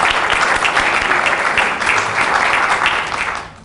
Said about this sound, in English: So without further ado, a warm round of applause.